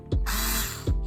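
A power tool whirs briefly while backing out the bracket screws on a Nissan 370Z headlight, a short sharp rev-up into a steady buzzing spin that cuts off, close and loud with no talking.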